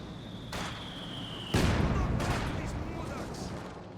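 Heavy mortar fire in the real-time strategy game Company of Heroes 2, with a distant boom followed by a loud, rumbling explosion that fades over a few seconds, heard alongside game sound.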